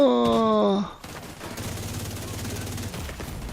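A turret in The Division 2 fires a rapid stream of gunfire after a brief musical tone, the bursts rattling on continuously and fairly loud to the end.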